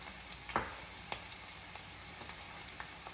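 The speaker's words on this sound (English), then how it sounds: "It is a stir fry, so let's mix these veggies up real quick." Veggies and kelp noodles stir-frying in a pan, a steady close sizzle with a few sharp clicks and scrapes from the stirring utensil.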